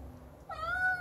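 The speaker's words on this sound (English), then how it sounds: "Meow," A healthy, hungry cat lets out a single close, clear meow, a rising then steady tone that begins about halfway through after a short quiet stretch, with a little low background hum.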